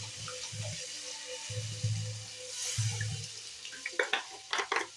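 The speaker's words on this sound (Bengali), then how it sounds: "এই যে জল দিচ্ছি হালকা করে, দেখো জল দিয়ে দিচ্ছি আমি হালকা করে" Water is poured gently into a pan of cooking spices, giving a soft splashing trickle with a few light clinks and bubbling bursts near the end, no talk.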